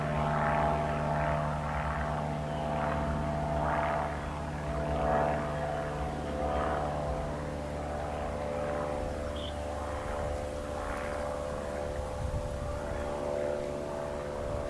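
A small Cessna propeller airplane passes overhead, a steady droning engine hum with a faint rising and falling pulse that fills the whole stretch outdoors, alone without talk.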